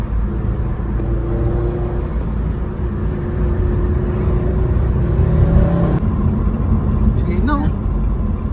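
A turbocharged car engine revs loudly at a late-night car meet in Australia, a steady engine roar with rising pitch sweeps, while people talk nearby over the sound.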